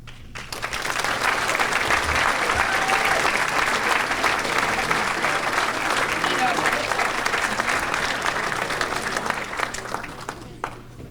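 An audience at a Dartmouth Athletics Hall of Fame ceremony breaks into loud, sustained applause after an inductee's speech. Dense clapping fills about ten seconds and then tapers off.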